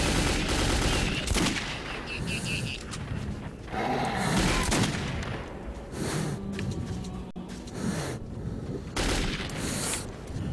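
Repeated bursts of automatic gunfire in Metro 2033, loud and close, with short volleys rattling one after another over a dense combat backdrop and occasional booms.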